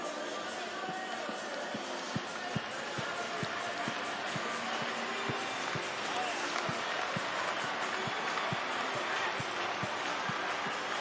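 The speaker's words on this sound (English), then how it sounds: "Get it, clap and follow along." A stadium crowd at a Savannah Bananas banana-ball game claps along in a steady, evenly spaced rhythm of sharp claps over a busy, roaring background, with an announcer's voice urging them on.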